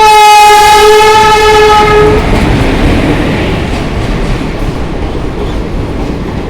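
A train pulls into a railway station, its loud horn blaring for about two seconds before giving way to a steady, heavy rumble of the rolling cars up close.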